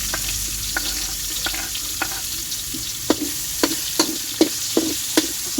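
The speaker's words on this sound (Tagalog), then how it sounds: "tayo po yung maggigisa na ng bawang at sibuyas" Garlic and onion sizzling in a hot pan for pinakbet, a steady close fry broken by a series of sharp, regular spatula taps and scrapes against the pan, with no voices.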